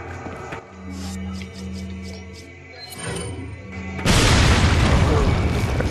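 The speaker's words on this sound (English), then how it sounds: "we might as well just use a grenade" A grenade goes off in Resident Evil 4, a sudden loud, broadband blast that follows a stretch of quieter game sounds and short voice-like noises, then sustains as a rumbling roar.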